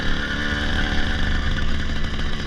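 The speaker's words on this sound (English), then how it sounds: "Bike's four-stroking quite a bit." A motorcycle engine runs steadily and loudly throughout a ride to a machine shop, with a dense, uneven four-stroking throb from a bike whose timing needs adjusting.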